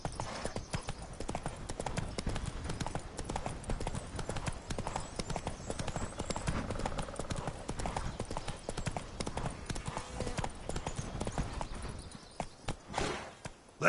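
Roach, the horse in The Witcher 3, walks with a steady, close clip-clop of hooves that runs almost without a break before easing off near the end.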